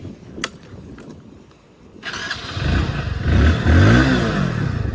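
An engine starts after a couple of clicks and revs up loudly, a close motorbike rumbling and rising in pitch toward the end.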